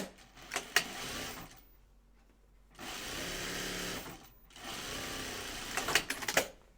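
A sewing machine stitches fabric into a continuous circle in three short runs of rapid whirring, separated by brief pauses with light handling noises.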